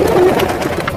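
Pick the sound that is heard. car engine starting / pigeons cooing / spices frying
pigeons cooing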